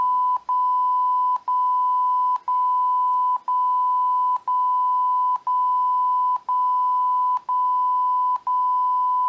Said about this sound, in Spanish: nuestra alarma sonora en LabVIEW va a sonar.